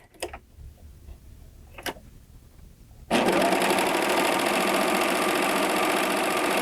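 Baby Lock Acclaim serger stitching stretchy fabric: a few quiet handling clicks, then the machine starts and runs fast and loud with a steady, rapid ticking whir.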